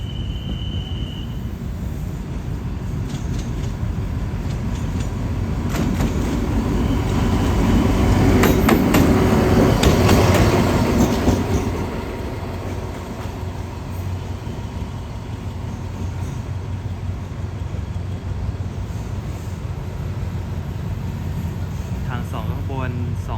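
Alstom locomotive 4308 rolls in on track 3 at Bang Sue Junction: a low rumble and clicking wheels swell to a peak midway, then settle into a steady idling hum, with someone talking throughout.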